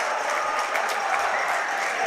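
A home crowd at a high school varsity basketball game roars and applauds after a dunk, a dense, sustained wash of cheering and clapping filling the gym.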